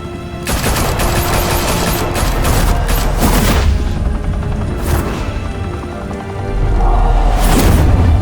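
Sustained gunfire in the Batman Telltale Series video game, a dense, loud barrage of rapid shots with booming impacts that continues almost unbroken and surges again near the end, without talk.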